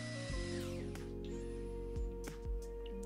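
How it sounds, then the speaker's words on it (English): A hammer drill in hammer mode drills into a wall, whirring steadily with a high mechanical whine, punctuated by a few sharp knocks and bursts as it bites into the hard surface. "I've got the drill set in hammer mode."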